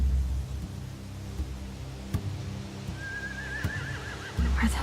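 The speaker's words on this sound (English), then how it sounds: "They have horses." Horses whinny near a pier in The Walking Dead video game, a single wavering neigh rising mid-clip over steady low ambient rumble and rain-like noise.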